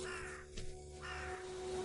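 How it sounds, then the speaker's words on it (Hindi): Crows caw inside the space video game Fractal Space, heard faintly over a steady, humming ambient drone, with a brief harsher call standing out in the middle. "अरे ये तो कौवे हैं।"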